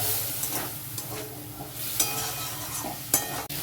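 Mukhi kochu (taro) dish cooking in a hot pan as a little bowl-rinse water goes in: steady close sizzle and frying hiss, with stirring scrapes and a few sharp clinks of utensil on pan.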